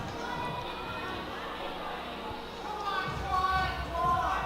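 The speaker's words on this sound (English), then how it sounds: "Crowd starting to get behind Sean, cheering him on." Spectators at a national sport climbing championship semifinal cheer on a climber, a broad crowd roar that swells toward the end, heard beneath steady commentary voices.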